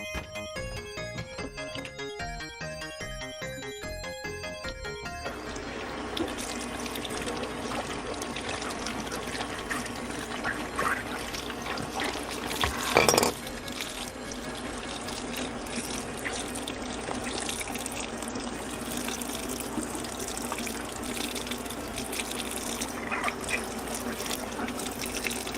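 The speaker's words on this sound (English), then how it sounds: "I'm gonna go wash my brush so I don't have trouble on the very last step." Running tap water splashes steadily while a brush is rinsed under the faucet during a bookbinding session, close and continuous for over twenty seconds after a brief tonal passage at the start.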